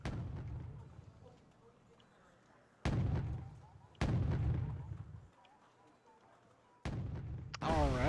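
Mortar and artillery fire in the strategy game Wargame: Red Dragon, with sharp booms landing in bursts, each followed by a rumbling decay, over a low battlefield background.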